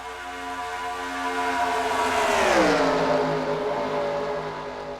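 IndyCar racing cars in a video game on the Texas oval, with a loud engine whine that rises and then drops in pitch as a car sweeps past, sustained throughout with no voice.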